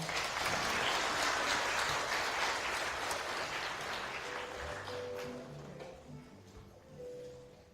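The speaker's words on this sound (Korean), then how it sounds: "다시 한번 박수 부탁드릴게요." An audience at a Korean literary café theater event applauds after a staged reading of a novel. The clapping starts dense and broad, then thins and fades as a few tonal sounds come in near the end.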